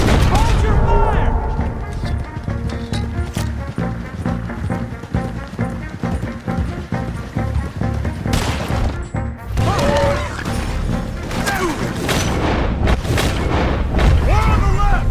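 Dense Red Dead Redemption 2 gunfire in an army skirmish, rapid overlapping shots and crashing impacts throughout, loud and close, with shouting voices mixed in.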